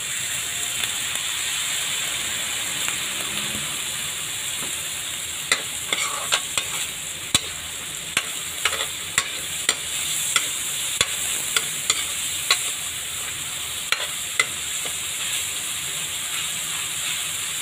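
Ground meat sizzling steadily in a hot pan with a constant frying hiss, while a utensil scrapes and taps against the pan in a quick irregular run of clicks through the second half.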